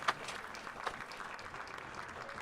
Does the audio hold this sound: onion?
no